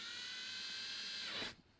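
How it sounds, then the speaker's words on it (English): Drill bit boring a hole at close range, a steady high whine held for over a second before stopping abruptly, with no talk. "let's drill that first hole with the drill bit they gave us"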